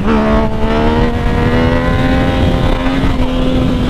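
A loud motorcycle engine roars close by at a steady, slightly rising pitch while riding with a passenger on the back, with wind noise and no speech.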